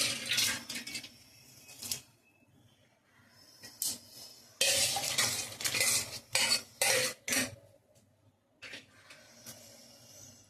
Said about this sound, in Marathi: हलक्या हाताने ढवळून घ्यायचा आहे.